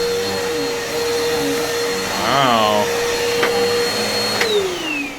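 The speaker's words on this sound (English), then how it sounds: "I was saying it would sound like any Bissell vacuum cleaner." A Bissell Power Force Helix vacuum cleaner with a loose belt runs with a steady loud whine, rising briefly in pitch midway and dropping at the end as it winds down; a short exclamation is spoken over it.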